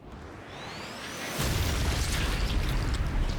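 A grenade in the video game Sniper Elite 5 goes off with a whooshing rise and then a heavy, rumbling blast that holds loud and sustained through the remainder of the clip.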